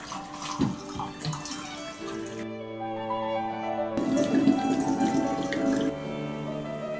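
Water runs from a tap into a sink while rinsing developed film, splashing and gurgling, with the flow briefly changing to a smoother, tonal stream midway before splashing resumes.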